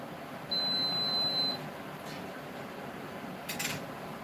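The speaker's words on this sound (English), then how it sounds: "And now it is beeping." One long electronic beep from a jam maker signalling it is done sounds for about a second over a quiet room hum, followed by faint clinks.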